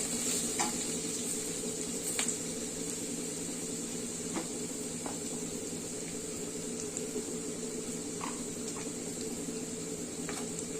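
Telangana-style onion curry frying with salt and chili powder in a pan, a quiet, even sizzle with occasional light scrapes of stirring, no talk.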